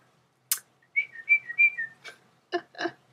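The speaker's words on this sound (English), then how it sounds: "I have a special whistle that I use for my doggies" A short series of high, clear dog whistle tones, rising and falling in a quick tune, ending with a few breathy, airy bursts.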